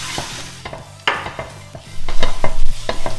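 Flour cooking in butter with sweated leeks in a pan, a low sizzle broken by repeated scraping strokes of a spoon, louder and busier toward the end.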